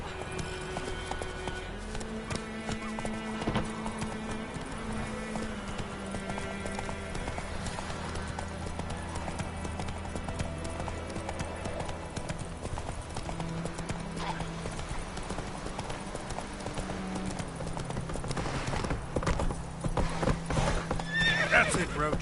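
The horse Roach gallops through The Witcher 3 with steady rhythmic hoofbeats, breaks into a whinny, and keeps galloping to the end, all under a bed of game music and ambience while a person talks over it.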